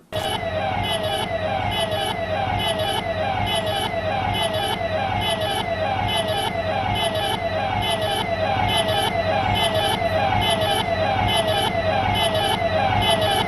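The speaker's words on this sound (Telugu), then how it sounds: "అదే పోలీస్ వాహనం" Police vehicle siren wailing continuously and loudly with a fast repeating rhythm, traffic noise underneath, played back from a video clip.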